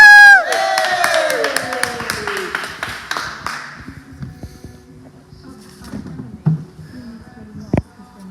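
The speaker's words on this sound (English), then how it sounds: "Give a round of applause for the puppet" A crowd at a Sunday celebration party whoops and cheers loudly for a puppet team, with a burst of clapping that fades after a few seconds into scattered voices and knocks.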